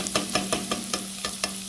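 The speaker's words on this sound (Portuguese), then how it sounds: "eu tô só fritando aqui a cebola, nessa panela que eu vou fazer o recheio do frango" Onion frying in a pan over low heat as filling for a chicken pie, with soft sizzling and a regular series of scraping stirs about five times a second, quiet and close with no talk.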